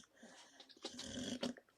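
A dog named Kylo growling and grumbling close by, low rumbling noises rising and falling across the clip with a louder burst near the end, no talk over it.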